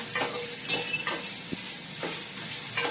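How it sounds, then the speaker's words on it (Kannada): Sliced onions fry with spices in a pan for chicken biryani, a close, continuous sizzle punctuated by a few quick spatula scrapes. "ಈಗ ಸ್ವಲ್ಪ ಇದನ್ನ ಸ್ವಲ್ಪ ಫ್ರೈ ಮಾಡ್ಕೊಳ್ಳೋಣ"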